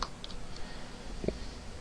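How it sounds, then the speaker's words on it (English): An email address being typed on a computer keyboard: a few faint, sparse key clicks over a quiet background hum, short and soft, with no voice. "So I'm going to type in an email address"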